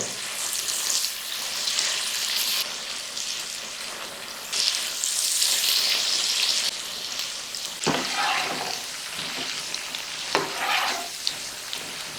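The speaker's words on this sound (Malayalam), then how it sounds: "ഇനി നമുക്ക് അതുപോലെ തന്നെ ബാക്കിയുടെ ഒന്ന് ഫ്രൈ ചെയ്തെടുക്കണം" Potato pieces frying in hot oil for a Kerala potato fry, a continuous bubbling sizzle up close with louder swells and a few stirring scrapes and clinks toward the end.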